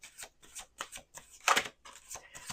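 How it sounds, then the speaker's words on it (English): Tarot cards are riffled and shuffled in quick bursts, several crisp fluttering rounds close by, with short pauses between them. "Let's do two more shuffles."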